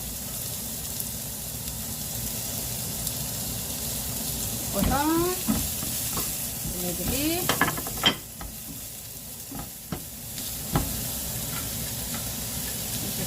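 Tofu cubes fried thick with onion and green onion in a pan give a steady sizzle, with scraping stirs and a few spatula clinks standing out from the crackle.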